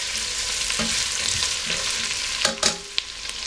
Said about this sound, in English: trinity started to be caramelized and I'm adding now my potatoes in and mixing it well.